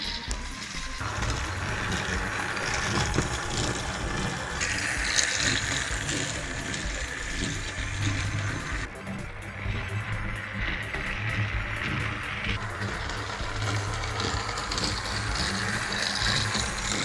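Motorized Trackmaster Thomas toy trains run around a track, a continuous close mechanical whir and rattle of small motors and wheels with shifting tone, no talking.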